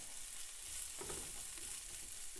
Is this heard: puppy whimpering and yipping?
no